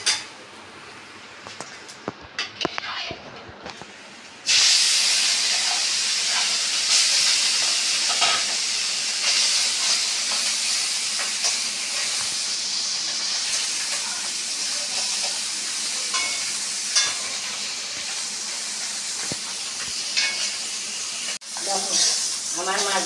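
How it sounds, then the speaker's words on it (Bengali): Fresh puti fish frying in hot oil in a pan, a loud, steady sizzle and hiss that bursts up after a few quieter seconds and crackles on without a break. "এইভাবে আমি মাছটা সব ভেজে নেব।"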